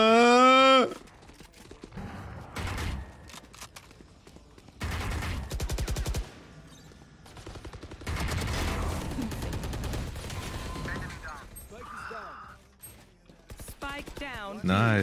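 Valorant match gunfire, several bursts of rapid shots and single cracks from weapons in the game, loud and close, separated by quieter stretches with game sounds and brief voice chatter.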